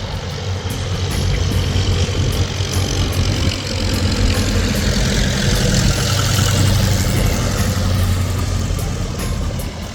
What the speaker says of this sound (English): right now, they're out flying 5 OX5 powered biplanes